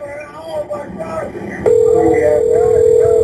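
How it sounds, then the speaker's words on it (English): A steady telephone ring tone starts partway through and holds, loud and continuous, while a person keeps talking over it. "So listen to the phone call, and what you hear is the ringing"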